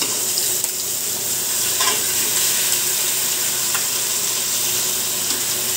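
Bakoko fish placed into a hot pan for adobo with potatoes, producing a loud, steady, close-up hiss of frying oil that holds constant throughout, with no talking.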